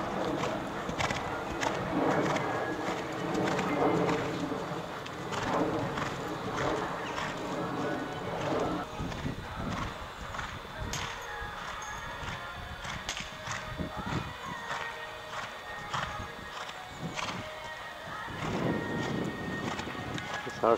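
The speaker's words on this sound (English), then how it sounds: "Very, very pretty Irish bred gelding with plenty of blood. Got a beautiful canter." A six-year-old Irish-bred sports horse gelding canters on a riding surface, its rhythmic hoofbeats fairly faint and steady, with wind and occasional voices in the background.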